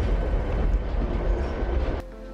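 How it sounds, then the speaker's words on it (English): A train bound for Dimitrovgrad, Serbia, rumbles steadily with a rolling rail clatter before it drops abruptly to a quieter low hum. "we're going to get the first train to Dimitrovgrad"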